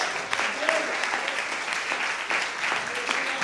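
A church congregation applauds together, steady dense clapping from a crowd in a reverberant hall, with voices mixed in beneath it.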